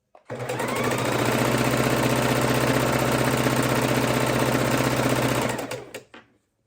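A sewing machine stitching jelly roll strips into a quilt runs steadily for about five seconds with a fast, even mechanical whir and needle chatter, starting abruptly and winding down at the end, close and alone.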